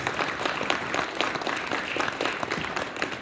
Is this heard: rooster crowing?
no